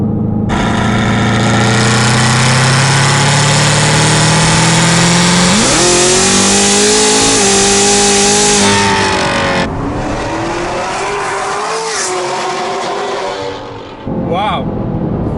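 A 2017 Camaro ZL1 tuned to 1,000 wheel horsepower roars close and loud as its engine climbs through the revs, shifts with a pitch drop, pulls hard again, then backs off toward the end.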